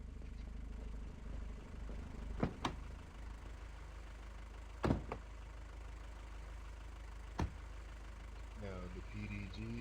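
A car engine in a video game running at low speed, a steady low hum held throughout, with a few sharp knocks and a voice talking over it near the end.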